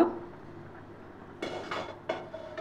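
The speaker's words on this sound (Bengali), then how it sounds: "এবার আমি ঢাকাটা তুলব" A metal lid is lifted off a pot of simmering chicken stew, giving a few short clinks and clatters of metal against metal over a quiet kitchen background.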